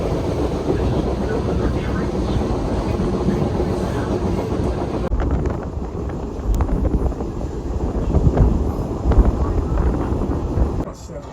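Alaska Railroad Denali Star passenger train rolling along, heard from its open-air outdoor observation deck in cold weather, a steady loud rumble with wind buffeting the microphone and occasional rail clatter throughout.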